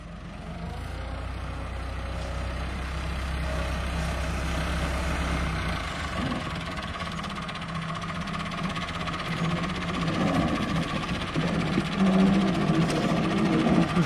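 A tractor pulling a super seeder drill through a harvested maize field sows wheat with a steady, loud, low engine drone and vibration throughout. No one speaks.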